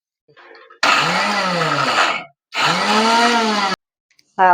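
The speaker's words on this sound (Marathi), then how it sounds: "आपण तो मिक्सर चालू बंद करून" A kitchen mixer grinder whirs loudly grinding wet coconut and jaggery in two bursts of about one and a half seconds each, separated by a short pause, with a brief start at the end.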